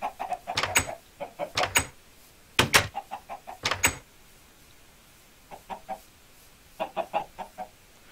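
Minecraft chickens clucking in short clustered bursts, several quick clucks at a time separated by brief pauses, fairly close and clear with no talk over them.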